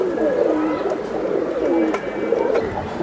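Pigeons coo softly in repeated low throaty phrases at close range in a Bangladeshi pigeon market, with a faint voice in the background.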